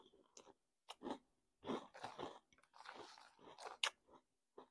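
Crunchy bites and chewing of Snoop Dogg brand cinnamon cereal, close and quiet, in several uneven bursts separated by short silences.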